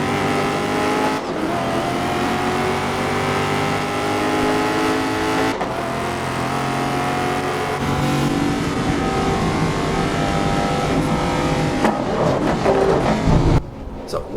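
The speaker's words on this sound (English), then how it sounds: "Even the engine sounds were great." Racing video game car engine roaring continuously, with shifting revs and gear changes throughout, loud and close; speech-like sounds briefly enter near the end.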